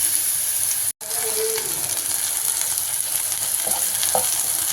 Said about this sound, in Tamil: பீர்க்கங்காய் வறுக்கிறதுக்கு எண்ணெய் ஊற்றி கடுகு போட்டு அடுத்து நம்ம இந்த பீர்க்கங்காவை